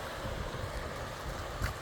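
Fast-flowing creek water rushes in a continuous broadband wash, with a bump near the end that may be wind on the mic; moderately close and fairly quiet, with no talking.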